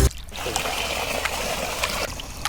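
Water from a motor pump flowing into a farm field, a steady, close trickling gush that runs evenly with small splashy peaks.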